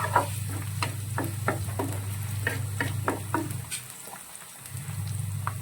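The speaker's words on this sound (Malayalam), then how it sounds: "ഒരു ഗോൾഡൻ ബ്രൗൺ ആയിട്ട് വരെ നമ്മളിത് നന്നായിട്ടൊന്ന് മൂപ്പിക്കണം." Ingredients for a lime and date pickle fry in hot oil until golden brown, giving a steady close sizzle with repeated sharp scraping stirs throughout.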